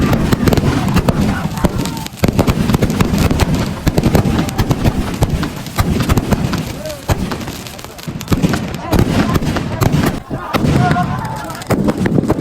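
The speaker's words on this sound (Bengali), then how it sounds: "আতশবাজি প্রদর্শনটা দেখে নাও।" A fireworks display at a Ravana-burning fair gives dense, loud, rapid bangs and crackles that go on almost without a break, while people talk through the noise.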